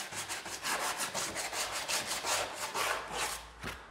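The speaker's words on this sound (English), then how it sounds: "Just taking off a bit of the sharp edge and then go over it with the sandpaper." Sandpaper is rubbed back and forth along the edge of a stone-effect wallpaper mural panel in quick, rhythmic rasping strokes. The scratchy sound is close and continuous, with no talking.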